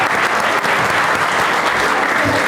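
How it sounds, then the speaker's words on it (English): At a school board meeting, an audience applauds a student with a steady, even roar of many hands clapping close by, loud and unbroken from start to finish. "let's give Leah a round of applause"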